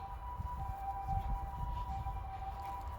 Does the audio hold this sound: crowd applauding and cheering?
no